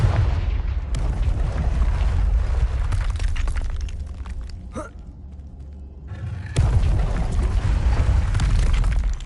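Confringo blasting spell explosions in Hogwarts Legacy: a loud, deep boom rumbles on for several seconds, dies away into quieter crackling with a short whoosh, then a second heavy blast erupts and roars.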